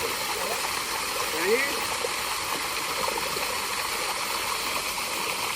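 Cold water from a tube well gushes steadily nearby in a constant roaring stream, with brief splashes and a voice faintly audible under the flow, in a Pakistani village in summer.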